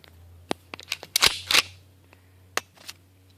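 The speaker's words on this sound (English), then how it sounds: "Alright, so now it's time for a shooting test." A modded 12-gram CO2 airsoft pistol fires several sharp, loud cracks up close, with a burst of rapid shots in the middle and a final single pop, separated by quiet mechanical clicks.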